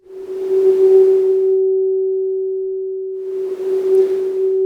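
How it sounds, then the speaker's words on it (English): A synthesizer's white noise oscillator makes two soft whooshing noise swells at the start and end, while a steady ringing sine-like pitch holds loudly throughout. "So this is a white noise oscillator, which is just kind of, that whooshing sound, which we can hear."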